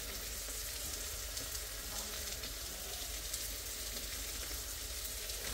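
Salted fish frying in a pan of hot oil gives a dense, continuous loud sizzle and crackle that stays steady throughout with no pauses.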